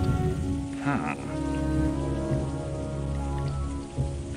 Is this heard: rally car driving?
no